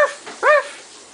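A person imitates a dog with short yapping barks, one clear close bark-like cry standing out among fainter ones in a quiet room.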